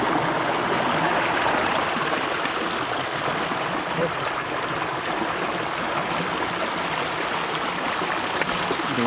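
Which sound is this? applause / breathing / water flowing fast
water flowing fast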